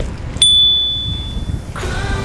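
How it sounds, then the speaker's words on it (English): A bicycle bell on a 2019 Norco Range mountain bike gives one bright, clear ding close by. The ring hangs and fades over about a second, then rustling handling noise follows. "You want the bell? Seriously?"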